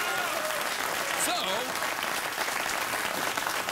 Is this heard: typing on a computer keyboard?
no